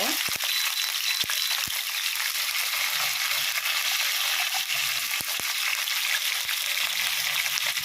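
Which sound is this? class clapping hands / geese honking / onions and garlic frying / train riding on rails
onions and garlic frying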